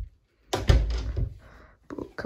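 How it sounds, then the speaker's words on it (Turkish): A dorm room door in Lisbon is pushed shut, giving a close, solid thunk with a brief rattle, then a couple of softer knocks as it settles. "Şu kapıyı kapatayım."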